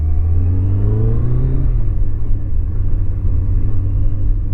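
A Kawasaki ZZR 1100 motorcycle engine runs in traffic with uneven throttle response, giving a loud, close, continuous low rumble whose pitch rises and falls as the revs surge.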